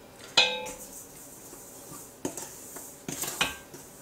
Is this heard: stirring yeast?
yes